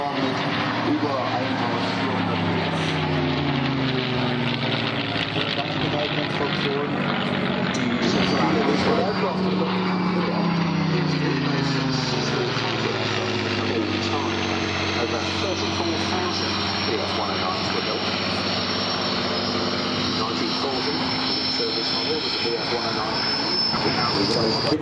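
A Messerschmitt Bf-109G-4 warplane with its DB605 12-cylinder V engine at the ILA 2010 Berlin air show, a loud continuous drone with a shifting pitch as the aircraft passes, under announcer commentary throughout.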